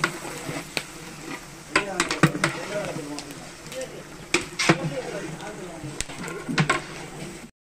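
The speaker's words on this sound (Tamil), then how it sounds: "வேக வச்சதெல்லாம் எடுத்து ஊற்றுறாங்க பாருங்கள்" Boiled mutton bones being poured into masala for a temple-feast bone curry, with splashing, clattering pours and scraping in bursts, over a busy outdoor cooking background and nearby voices.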